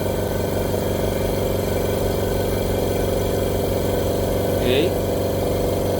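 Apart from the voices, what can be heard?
silent air compressor GDG30 running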